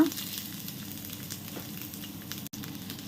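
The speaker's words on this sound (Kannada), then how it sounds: "ಸ್ವಲ್ಪ ಆನಿಯನ್ ಸ್ಮೂತ್ ಆಗುವ ತನಕ ಫ್ರೈ ಮಾಡಿಕೊಳ್ಳುವ" Onion and red chillies fry in hot oil with a steady, moderate sizzle that crackles on without pause.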